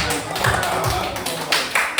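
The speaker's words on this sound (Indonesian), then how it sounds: "Tepuk tangan" Students in a classroom clap their hands together in quick bursts, a close and fairly loud run of slaps with faint voices underneath.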